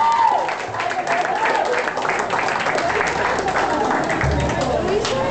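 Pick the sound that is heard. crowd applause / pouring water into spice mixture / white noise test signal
crowd applause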